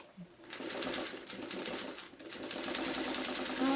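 A sewing machine runs steadily for several seconds as it stitches quilt block pieces for a Birds in the Air variation, with a rapid mechanical whir and needle clatter, close up and mid-level, and a brief pause partway through.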